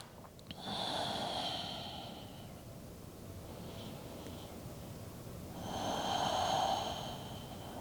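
Slow, audible breathing during a yoga pose, with two long, airy breaths, a drawn-out exhale near the start and another swelling breath later, close and soft.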